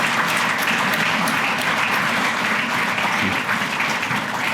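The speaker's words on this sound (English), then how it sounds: "give these folks a round of applause" Steady, dense applause from an audience at a city's State of the City address, honoring visiting officials, sustained and fairly loud throughout with no pauses.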